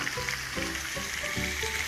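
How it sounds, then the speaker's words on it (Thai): Cucumber stir-frying in a hot pan gives a steady sizzle, with a few scraping stirs breaking through the crackle at close range; no one speaks. "แล้วก็ผัดแตงกวาให้พอนิ่มเล็กน้อย"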